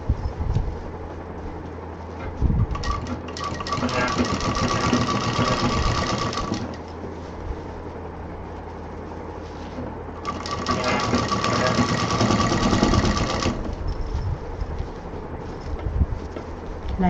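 A sewing machine stitches the pocket lining of a tote bag in two loud, rapid runs of mechanical whirring and ticking, separated by quieter handling noise and a voice speaking.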